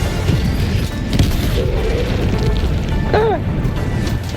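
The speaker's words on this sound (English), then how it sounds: "Calling in orbital strike." Orbital strike explosion in the video game Helldivers 2: a loud, sustained rumbling blast with dense low booming that fills the whole stretch, and a brief voice-like cry near the end.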